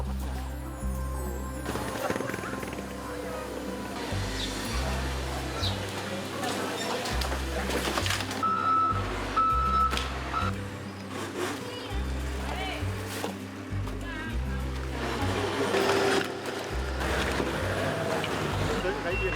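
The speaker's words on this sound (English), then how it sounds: "Excavators, payloaders, dump trucks, and other heavy machineries were used for the past week" Heavy machinery, including excavators, payloaders and dump trucks, clears mud from typhoon-hit streets in Marikina City, Philippines. A steady low engine rumble runs throughout, with a pair of short reversing beeps midway and a voice talking over it.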